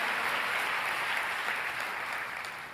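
Sustained applause fills a church worship service, a dense, steady clapping from a large congregation that holds at full strength and tapers slightly at the end, with no speech over it.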